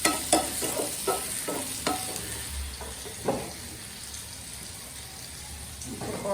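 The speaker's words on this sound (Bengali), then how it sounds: "আমি বেগুনগুলোকে একটু গোল্ডেন করে ভেজে নিচ্ছি" Brinjal pieces frying golden in oil in a home kitchen, a steady sizzle broken by several stirring knocks and scrapes early on, close and fairly quiet.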